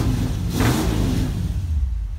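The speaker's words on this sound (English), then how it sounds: "Let me give it a little bit of gas too so you can hear it" A 1962 Ford Galaxie V8 engine revs up and holds a steady, throaty rumble close by, with a brief rise in pitch before settling back to a loud idle.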